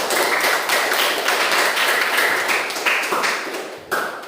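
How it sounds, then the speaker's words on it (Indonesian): A classroom group gives applause to the last group to present, a dense, steady burst of many hands clapping nearby that runs for about four seconds with no talking over it. "Kasih aplaus untuk yang terakhir"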